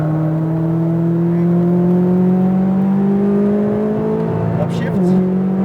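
A McLaren 570S engine pulls hard at full throttle on the Las Vegas Speedway, a loud close droning tone that climbs steadily in pitch before a brief dip as it shifts, with an instructor talking over it.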